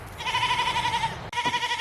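A goat staked out along a fence gives a loud, close, sustained bleat, then after a short break a second wavering bleat begins.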